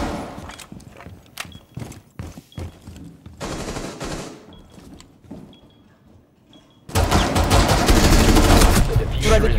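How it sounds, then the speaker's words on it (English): Video game gunfire, with scattered shots and short bursts early on, a quieter stretch, then a sustained loud barrage of rapid automatic fire. "Ronaldo, why did you shoot me?"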